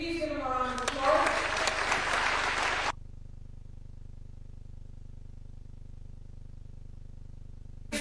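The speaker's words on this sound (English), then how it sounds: "Please give him a round of applause." Audience applause at a summit science exhibition, a dense burst of clapping mixed with voices for about three seconds that then cuts off abruptly to a quiet hum.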